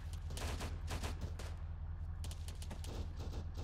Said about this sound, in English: Where is that tracer fire coming from?